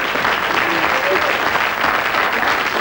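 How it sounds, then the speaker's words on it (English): Steady applause from an audience, dense and continuous clapping filling the whole moment at a strong, even level. "So a big round of applause for Joe."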